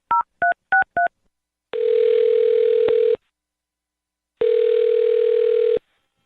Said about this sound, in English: I'm going to dial his phone number and see if we can find out why